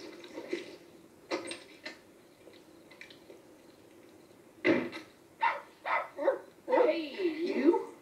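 Dog barking indoors in an apartment, a run of short, fairly faint yips and barks that grows toward the end, mixed with a person talking.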